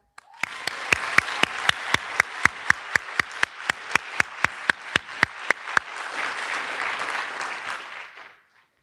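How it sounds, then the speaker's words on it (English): Applause at a 2021 Air Force community college graduation, a steady wash of clapping from a crowd with a close, regular beat of sharp individual claps standing out, lasting about eight seconds before cutting off. "We'd like to extend a virtual applause to the recipient, Tech Sergeant Yusake Yumada."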